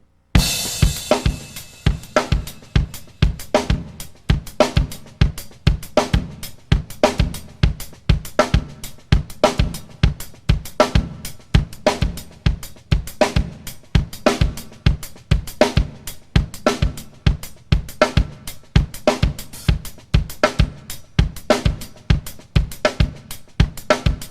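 A drummer plays a drum kit groove, a tight, busy funk pattern of crisp snare and hi-hat hits over kick drum, repeating steadily and close for the whole stretch with no talking.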